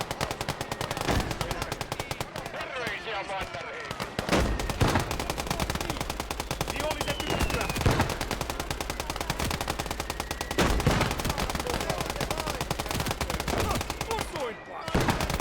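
Dense, rapid machine-gun fire rattles almost continuously through a tower-defense battle in a war video game, with heavy bursts and scattered louder impacts layered on top.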